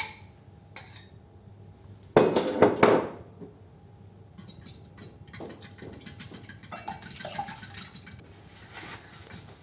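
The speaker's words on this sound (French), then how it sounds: "Ensuite, on va mélanger les 3 œufs avec la" Three eggs are mixed with cream in a bowl for a leek tart, with a brief burst of louder scraping and clinking of a utensil against the bowl, followed by lighter intermittent clinks and stirring.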